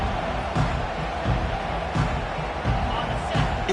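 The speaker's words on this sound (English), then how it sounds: "this crowd is fired up. Listen to this noise here" A large stadium crowd at a college football game roars in a dense, continuous wash of noise, with rhythmic thumps and surges pulsing through the sustained din.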